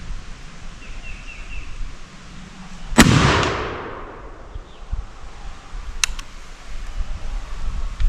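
A single sharp rifle shot fires a Burton bullet outdoors, one loud crack followed by a long decaying echo, with faint clicks and ambient rustle before and after.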